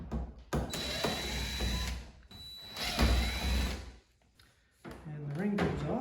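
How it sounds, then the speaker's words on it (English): A power drill removing screws from a Hobie Compass kayak whirs in short bursts, spinning up and stopping with mechanical clicks between runs, close by with a voice briefly heard near the end. "So the first step is we take the drill and we remove all the screws."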